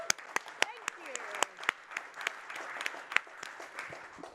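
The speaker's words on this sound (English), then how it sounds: "We'll have some more clapping, I think." A modest conference audience claps, sharp individual claps standing out over a thin patter, with a voice speaking briefly underneath.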